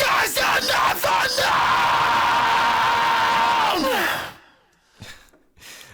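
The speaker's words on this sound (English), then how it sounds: "First time shouts." Loud shouted vocals from the track of a song: a few short cries, then one long sustained yell with a strained, raw edge. It cuts off sharply, followed by brief quieter breaths.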